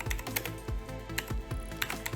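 Computer keyboard typing during a Photoshop tutorial, a quick run of crisp key taps with several louder strokes spaced through the stretch, close and clear with no voice over it.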